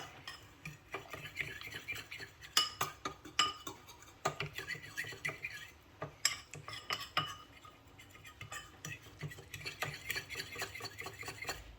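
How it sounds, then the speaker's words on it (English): A fork works a gluten-free vegan gravy mixture of flour and water in a bowl, giving busy clinking and scraping strokes against the dish in an irregular rhythm, close and moderately loud throughout. "I'm just going to use a fork just to mix this together, just freeing it of any lumps."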